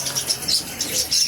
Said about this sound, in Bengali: এখানে সামনে রাখা আছে এক কালারের 2 পেয়ার ঘুঘু